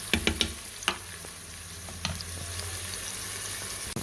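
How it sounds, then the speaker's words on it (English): Chicken sautés in a crock pot for coconut curried chicken, a soft, steady sizzle with a few sharp clicks and scrapes of stirring near the start and once midway. "Saute."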